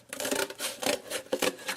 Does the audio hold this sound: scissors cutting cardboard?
yes